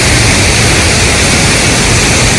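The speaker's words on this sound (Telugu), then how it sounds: "water fall" A powerful waterfall at Gleniff Horseshoe in Sligo, a loud, continuous broadband roar of rushing water with no breaks, close and overwhelming.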